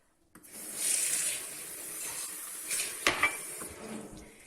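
Rice is washed with water in a glass, with running, splashing water, light clinks of the glass and a sharper knock partway through, close and fairly quiet.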